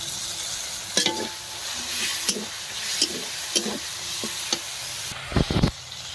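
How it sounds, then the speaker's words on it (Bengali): A ginger, garlic, chili, pepper and cumin spice paste sizzles in hot oil while being sautéed and stirred for a fish curry, with intermittent scraping stirs and clinks of the utensil against the pan, close and without speech. "মশলাটা ভালো করে কষিয়ে নেবো"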